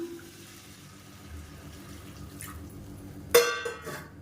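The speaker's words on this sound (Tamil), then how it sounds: "நானூறு எம்எல் அளவுக்கு அதாவது அரை லிட்டர் கொஞ்சம் கம்மியாக பால் வந்து சேர்த்துறேன் இது வந்து காய்ச்சாத பால் தான்" About 400 ml of unboiled milk is poured into a pan of sautéed carrots for sago carrot payasam. A soft room hum comes first, then a sudden close, splashing pour begins in the last second.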